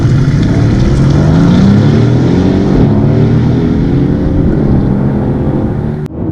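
A 2018 Aston Martin DB11 twin-turbo V8 accelerating hard on a track, a loud, close engine note climbing steadily in pitch through the run before a brief cutoff near the end.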